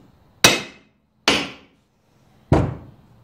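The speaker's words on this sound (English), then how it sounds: "You can tell by the feel and the sound of the hammer." Three sharp, ringing hammer strikes on a metal part of a Stihl 028 chainsaw, close and loud, spaced unevenly, with silence between blows and no talking.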